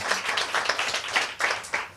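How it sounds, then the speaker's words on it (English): Audience applause at a talk on personal finance, a steady wash of many hands clapping at moderate level with brief swells, heard alone without speech. "So give him a big round of applause as well, please."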